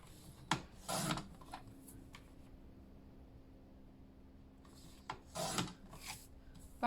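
Paper strips being sliced on a paper trimmer for a baby scrapbook page, two short raspy cutting strokes near the start and another pair near the end, with a quiet gap between them.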